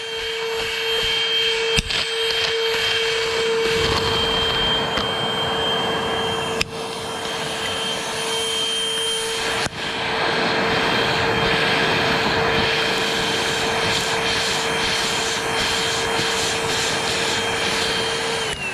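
A GEEMO lightweight handheld cordless wet/dry vacuum, 80 W with 2200 mAh battery and 8.5 kPa suction, runs steadily with its brush attachment, giving a loud continuous whine and hum close by, with a couple of brief clicks partway through.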